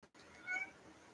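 A single short cat meow, fairly faint and close, rising briefly over a quiet indoor background with a soft voice nearby.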